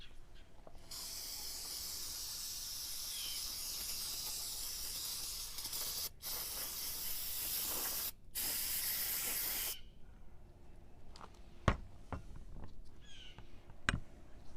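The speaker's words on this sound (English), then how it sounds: "I'm going to spray this side out." Aerosol cleaner sprays in long, steady hissing bursts, broken by short pauses, into one side of a BMW M54/M52tu double Vanos unit whose O-rings are worn; a few light knocks follow at the end.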